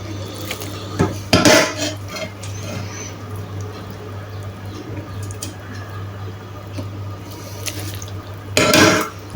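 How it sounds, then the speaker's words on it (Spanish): Escarole liquid poured through a colander in a kitchen sink, giving a steady watery splash with louder bursts near the start and end, plus light clinks of dishes and utensils. "Agarran una coladera y lo cuelan."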